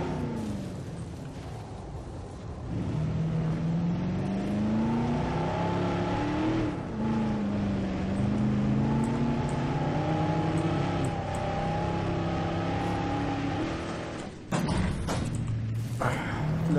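A car in the Jurassic World Evolution video game drives and revs, its engine tone rising and falling through several surges over a low rumble, with a sharp thump near the end.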